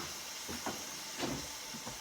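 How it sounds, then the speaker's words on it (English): Steady broadband hiss of chicken frying in hot oil, with faint crackles and pops rising here and there; no voices. "Hear that sizzling?"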